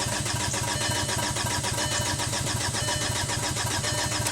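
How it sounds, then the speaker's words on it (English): Continuous cranking of a VW TDI diesel engine with the low pressure pump disconnected, a steady, fast, loud starter churn with a regular pulsing beat and no catch. "if I crank it without the low pressure pump"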